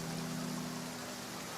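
Steady rain falls in Genshin Impact as a dense, even hiss with a low hum beneath, unbroken and without voices.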